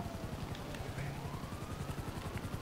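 Inside GTA V Online, a police helicopter's rotor chops in a fast, steady rhythm, moderately loud and continuous, with faint siren-like tones and a voice nearby.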